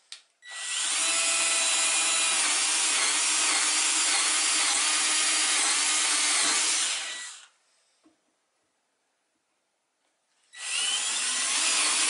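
A power drill bores holes through wood, running as one loud continuous whine for about seven seconds, stopping, then starting again near the end to begin another hole.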